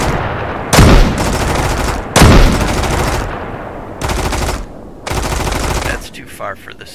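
Bursts of automatic gunfire in the survival game Mist Survival, shotgun in hand: four loud, dense volleys of rapid shots with brief gaps, the last fading into quieter scattered noise.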